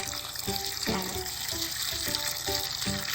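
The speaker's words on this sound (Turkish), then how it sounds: "Sıkıştırdıktan sonra can suyu veriyoruz." Water pours steadily onto the soil around a newly planted plum sapling, a continuous rushing splash with faint irregular gurgles and drips running underneath throughout.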